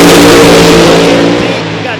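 A funny car launches down the drag strip at Eddyville Raceway Park, a very loud, close engine roar that gradually fades away, with a race announcer talking over it.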